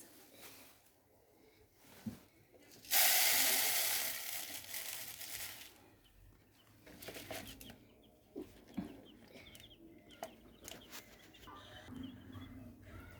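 Young chicks at a feeder cheep and cluck softly as fresh feed is poured in, with a loud rush of pouring grain near the start followed by scattered pecking, rustling and faint chirps.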